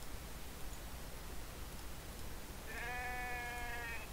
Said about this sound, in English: Ah, the sheep.